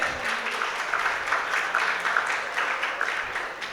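An audience at a school event in Jasdan gives applause for a top-scoring student, a steady wash of clapping from a large group, moderately loud and continuous without pause.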